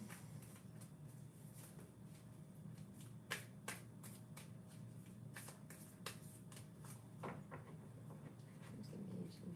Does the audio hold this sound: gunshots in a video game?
no